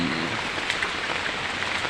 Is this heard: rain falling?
yes